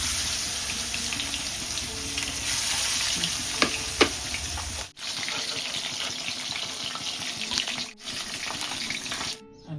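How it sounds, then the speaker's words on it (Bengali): Koi fish frying in hot oil, a loud, continuous sizzling hiss with bubbling spatter and a couple of sharp clicks, briefly cut twice by short gaps. "এখন আমি কই মাছটা দিয়ে দিই তেলের মধ্যে।"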